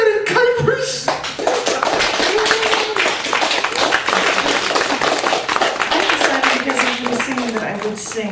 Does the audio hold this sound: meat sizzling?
no